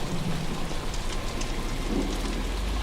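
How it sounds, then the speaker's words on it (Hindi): Heavy rain pours steadily, a dense continuous hiss of drops on surfaces with a low rumble underneath, no voices. "तभी रास्ते में तेज बारिश होने लगती है"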